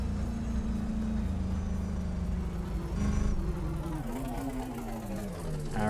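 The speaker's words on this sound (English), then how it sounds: "Listen to that turbo." A truck engine drones steadily with a rising, whistling turbo spool layered on top, continuous and fairly loud throughout, from a race truck in the video game BeamNG.drive.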